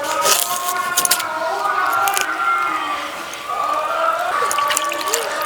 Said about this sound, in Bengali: গোটা কপিটাকে ধুয়ে নেব।